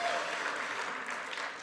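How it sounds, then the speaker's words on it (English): Brief burst of steady clapping from an audience at a Coldwell Banker Commercial event, moderately loud and even, with faint voices mixed in underneath. "You can give us a round of applause, Chris."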